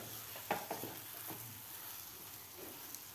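A mango and semolina filling is sautéed in a pan, giving a soft, low sizzle with a few scraping stir strokes early on, fairly quiet and close, with no voices.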